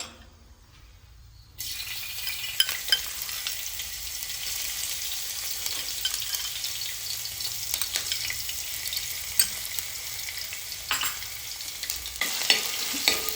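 Chopped ginger drops into hot oil with cinnamon sticks for a Kerala-style chicken stew, bursting into a loud continuous sizzle after a brief quiet start, with occasional scraping and rattling of the pan.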